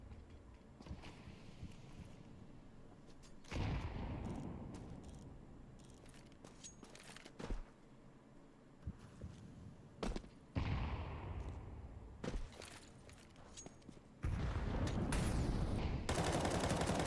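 Rapid bursts of automatic gunfire crackle through a Counter-Strike match, with dense volleys separated by quieter gaps and a long sustained barrage near the end.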